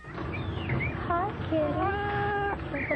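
A cat gives a few drawn-out, rising and falling meows, close and fairly loud, over a steady murmur of background voices in an indoor dramatized scene.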